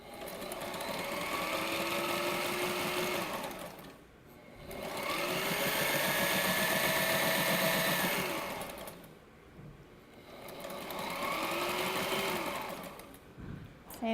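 Sewing machine stitching fabric: three sustained runs of rapid mechanical whirring and needle chatter, each several seconds long and separated by short pauses, close and steady, with no talk.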